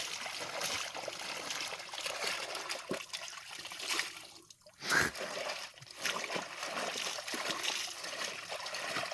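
Tie-dyed fabric sloshing and splashing in a bucket of water, a steady wet churning with one sharper slosh midway, fairly close.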